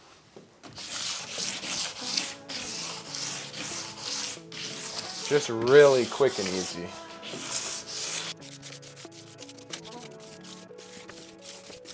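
Hand sanding on the tops of wooden floor ribs in a camper van, repeated rough rasping strokes in bursts, close and fairly loud, with a brief spoken remark partway through.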